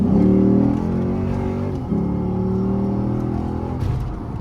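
Lexus IS F V8 engine accelerating hard, a loud, steady rising roar with strong low harmonics that dips briefly near the middle as the gear changes, then keeps pulling without any talk over it.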